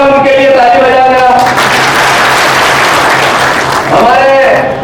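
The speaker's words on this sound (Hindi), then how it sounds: "मंच पे बैठे हुए सब उनके लिए ताली बजा देना" Audience at an Indian Congress party political gathering claps, a loud, sustained burst of applause lasting throughout, with harmonic voices of speech rising over it at the start and again near the end.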